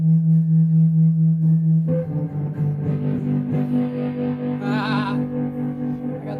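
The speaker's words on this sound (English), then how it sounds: "I got the distortion on here." Electric guitar played through a distortion pedal, a sustained distorted chord ringing then shifting to new notes with a wavering effect, loud and close, no talking.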